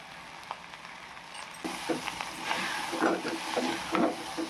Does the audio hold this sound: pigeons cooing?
no